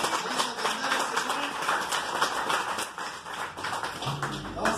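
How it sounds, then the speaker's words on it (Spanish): A congregation at a church prayer vigil claps together in a dense, lively burst of hands, steady and close throughout with no one speaking over it. "Un aplauso"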